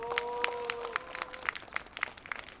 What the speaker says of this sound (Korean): 우리 판매 노동자 동지들께 큰 박수 한번 보내주십시오.